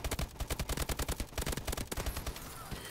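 Rapid automatic gunfire from a video game rattles off in a steady fast stream for about two seconds and then cuts off.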